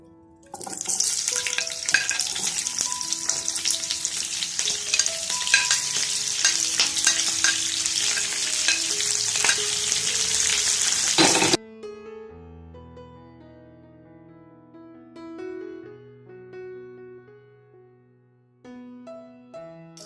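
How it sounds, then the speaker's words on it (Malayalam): Capsicum and onion sautéing in oil for paneer tikka make a loud, steady close sizzle with stirring for about eleven seconds, then the sizzle stops abruptly and soft music carries on alone. "ഇനി ഇതിലേക്ക് നമ്മൾ മാറ്റി വെച്ചിരിക്കുന്ന ക്യാപ്സിക്കും ഒണിയനും അതെല്ലാം കൂടെ ഒന്ന് വഴറ്റിയെടുക്കുക."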